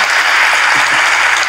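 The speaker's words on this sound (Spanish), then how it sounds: "Un fuerte aplauso para Sergio, por favor." An audience in a comedy show venue applauds in a brief, steady burst of dense clapping, loud and close, with no voices heard over it.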